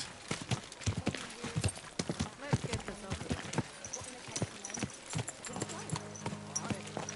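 Horse hooves clip-clop in a steady rhythm on a hard surface, close by, while someone speaks calmly over them.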